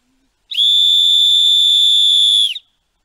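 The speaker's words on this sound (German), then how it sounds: "Ich muss die Pfeife benutzen." A single loud, shrill whistle blast, blown to call dogs, held steadily for about two seconds, close and clear against near silence.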